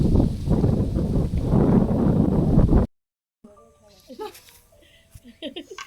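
Strong outdoor wind buffets the microphone in a loud, low, gusty rumble for about three seconds, then cuts off abruptly to a quieter scene with voices.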